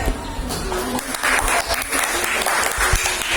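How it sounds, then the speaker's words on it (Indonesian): Audience clapping for a presentation at a teaching practice session, a steady burst of hand claps from a small group that continues throughout at moderate loudness. "Berikan tepuk tangan pada Babes Dita."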